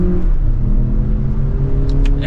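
A 2024 Lexus RX500h F Sport hybrid SUV engine revs up as it accelerates in sport mode, a close, rising whirring rumble that builds smoothly over a couple of seconds.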